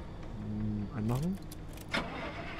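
Car engine starting in the video game Pacific Drive: keys jangle, then the starter cranks and the engine catches with a short rising whine, followed by a brief clunk, heard close alongside a speaking voice.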